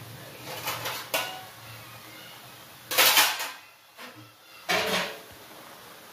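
A lid set onto a cooking pot of safflower greens, heard as several close metallic clanks and knocks spaced across a quiet kitchen background.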